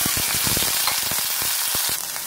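Boiled corn hits hot butter and oil in a wok, setting off a loud, close sizzle with crackling pops and quick bursts as the kernels are stirred.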